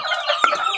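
Chicks cluck and cheep close up in a brief burst of bright, overlapping calls, ahead of a feeding of banana mixed with rice.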